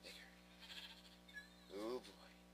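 In Minecraft, a single sheep bleats once near the end, a short wavering cry over a quiet steady game background hum, preceded by faint scattered game sounds.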